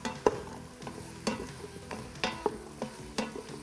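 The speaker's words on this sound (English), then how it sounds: "So once our potatoes are in, I'm just going to stir it around a little bit." Potatoes being stirred with a utensil inside an Instant Pot, giving a few sharp scraping clanks against the pot at irregular moments over a faint steady sizzle, close by.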